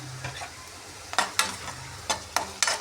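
Cumin seeds crackle in hot oil as they are stirred, a low steady sizzle broken by several sharp scraping bursts from the spoon, close and fairly loud, with no voices.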